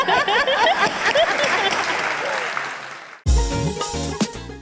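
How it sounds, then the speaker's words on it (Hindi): A studio audience at a Pakistani talk show breaks into dense, sustained applause that dips and then swells again loudly with music, with a voice briefly over it. "भरपूर तालियों में इस्तकबाल कीजिएगा"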